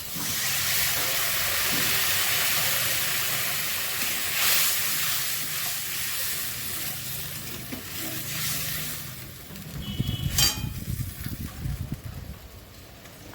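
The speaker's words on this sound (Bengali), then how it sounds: "মশলাটা হয়ে গেছে এবার জল দিয়ে দিচ্ছি" Hot spice paste hissing steadily in a pan before water hits it and the sound bursts into a louder, crackling, bubbling sizzle, close up.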